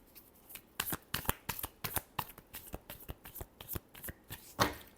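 Tarot cards are shuffled by hand in a steady run of crisp, close riffles and flicks, about a dozen quick bursts ending in a louder final flutter, with no voice over them.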